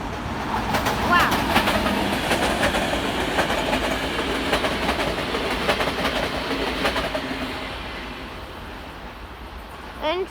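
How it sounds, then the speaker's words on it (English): Train passing by in Lamač, a loud continuous rumble with rhythmic clickety-clack of wheels on rail joints, birds chirping faintly and voices talking over it. "Little train right there."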